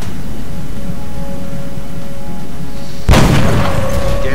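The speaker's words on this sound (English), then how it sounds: "It's just going to blast the wall out from around my face." Explosion blasting out a wall in XCOM: Enemy Unknown, a single sudden loud boom with a crackling, rumbling tail that cuts through a steady low background hum about three seconds in.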